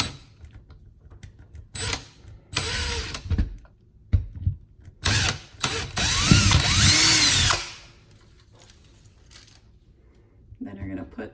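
A power drill whirs in several short bursts while drilling into a wall, then one longer run that cuts off, with quiet handling noises between.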